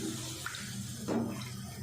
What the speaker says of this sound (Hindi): और अब पानी डाल देते हैं।